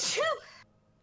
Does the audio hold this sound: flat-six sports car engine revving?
no